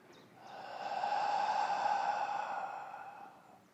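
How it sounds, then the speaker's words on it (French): One slow, deep inhalation during a Pilates exercise, breath rising and fading over a few seconds, close and quiet with no talking. "Et j'inspire ici."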